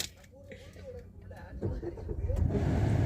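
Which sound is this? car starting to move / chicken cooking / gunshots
car starting to move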